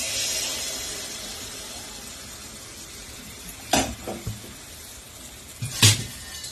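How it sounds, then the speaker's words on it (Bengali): Mango pitha batter frying in hot oil in a wok: a steady bright hiss of oil that fades slightly, broken by a few sharp clinks of a utensil against the pan. "তো চলো তেল গরম হয়ে গেছে, প্রথমে একটা দিয়ে দেখি কেমন হয়।"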